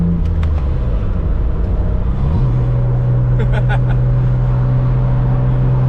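A car with a manual gearbox drives along an expressway, its engine rumble dropping and then settling into a steady, lower drone after a gear change, with someone talking over it.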